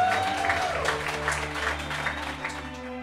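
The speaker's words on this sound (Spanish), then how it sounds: "Fuertísimo el aplauso para Dina Robledillo." A comedy show crowd gives a fairly quiet wash of applause and cheering for a comedian arriving on stage, with a little music audible beneath the clapping.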